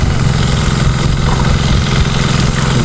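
A farm engine runs steadily and loudly throughout, a continuous mid-pitched mechanical drone close by with no talk over it.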